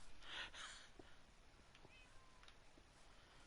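A cat meows in a Minecraft game, several short, faint mewing calls at the start over a quiet background hiss.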